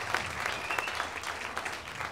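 Audience applause during a comedy podcast, a steady wash of clapping hands that holds evenly for a couple of seconds, moderately loud and without voices over it.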